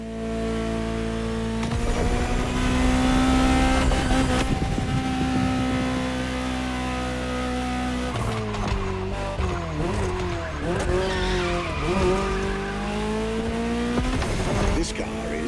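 A Ferrari GTO, the Gran Turismo Omologato, in The Crew Motorfest video game, its engine droning and revving up and down through gear changes with bursts of tire squeal, loud and close, with talk over it.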